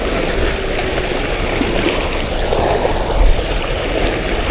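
A strong stream current rushes through a tunnel as a loud, continuous roar of churning water, steady and close, swelling briefly toward the end.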